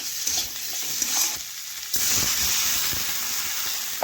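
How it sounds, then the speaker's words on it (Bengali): Potatoes and spices being stirred and fried in a pan give a steady hiss of sizzling oil with soft scraping, rising to a stronger, steamier sizzle partway through. "এইভাবে বেশ কিছুক্ষণ ধরে দেখুন আমি নাড়াচাড়া করে একটু ভেজে নিচ্ছি"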